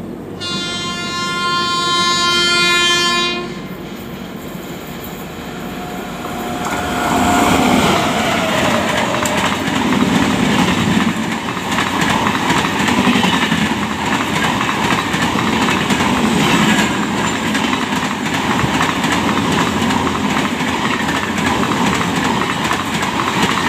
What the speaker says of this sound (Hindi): अब एक ट्रेन क्रॉसिंग हो रही है